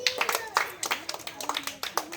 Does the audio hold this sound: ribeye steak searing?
no